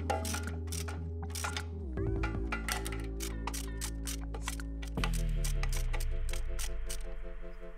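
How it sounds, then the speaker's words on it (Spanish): Bolts holding the axle shaft to a Dana 30 axle are tightened with a ratchet, a rapid run of close clicking ticks over a steady mechanical hum, with pauses as the tool is repositioned. "Volvemos a apretar los tres tornillos que sujetan el palier al eje."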